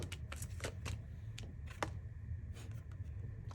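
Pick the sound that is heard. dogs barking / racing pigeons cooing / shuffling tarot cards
shuffling tarot cards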